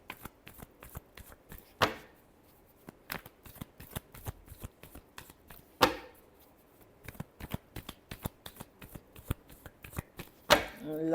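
Tarot cards being shuffled by hand, crisp papery riffles and taps in an irregular rhythm, with three louder snapping bursts spaced several seconds apart, close and fairly quiet.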